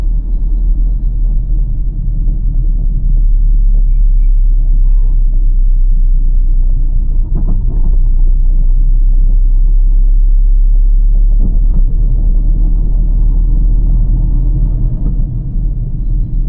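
A car drives through Chennai city streets at night, heard from inside as a loud, steady low engine and road rumble that holds throughout with only slight swells, no speech.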